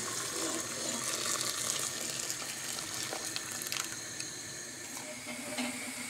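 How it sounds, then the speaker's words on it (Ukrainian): Water heating toward a boil in a pot while jars are sterilised in a kitchen, a soft steady hiss with faint scattered ticks and bubbling pops, no voices. "Банки стерилізуються і вода закипає."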